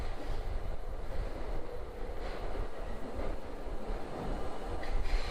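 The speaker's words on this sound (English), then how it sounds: "we know it's a train. We're underground" An underground train rides through a tunnel with a continuous heavy low rumble and rattling, and occasional squeals and clanks rise near the end as the car rolls on.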